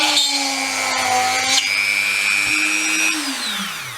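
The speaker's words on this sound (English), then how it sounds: "It's just a miniature version of a drill press." A Dremel Workstation used as a miniature drill press bores into a spare block of wood, its motor whining loud and close without a break. The pitch dips and shifts as the bit bites in and the load changes.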